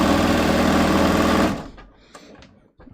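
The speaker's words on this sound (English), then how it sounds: "I'm just going to stitch down here." A sewing machine stitches a jeans leg seam in a loud, steady buzzing run for about a second and a half, then stops, leaving faint handling clicks and quiet rustles.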